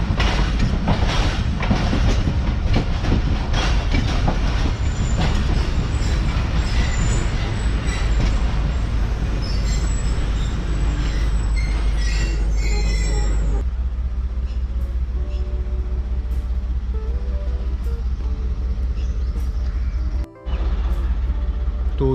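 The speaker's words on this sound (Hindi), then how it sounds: "हमारी ट्रेन हबीबकोट जंक्शन पर अप्रोच बनाते हुए लेकिन अब ट्रेन जो है वो मेन प्लेटफॉर्म पर लगी है।" A Mohen Jo Daro passenger train pulls into Habibkot Junction in Sindh after heavy rain, a loud steady rumble of rolling wheels and rattling carriages that eases to a lower, smoother hum partway through.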